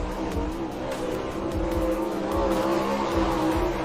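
Sprint race cars roar around a dirt track at Tri-City in a High Limit Sprint Series race, a loud, continuous engine howl with shifting pitch as the pack passes, heard alone with no voices.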